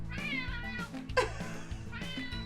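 A cat begging for food gives several loud, close meows in succession, drawn-out and whiny with short gaps between them, with no talking.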